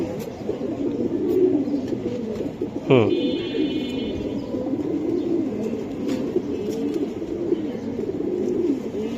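Pigeons coo in layered, continuous murmurs at a pigeon seller's stall, with one brief sharp call rising near the middle, loud and close throughout.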